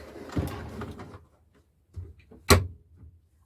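Soft clunks and bumps of a camper van's stove being swung out on its hinges, ending in a sharp click, with quiet pauses between the sounds.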